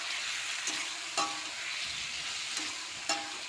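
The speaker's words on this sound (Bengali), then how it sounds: "আমি সব মশলা একসঙ্গে কষে নেব।" Ground spices of turmeric, salt, coriander and cumin sautéed together in a pan for a Bengali fish curry, giving a steady, loud sizzle with a few sharper scrapes of stirring.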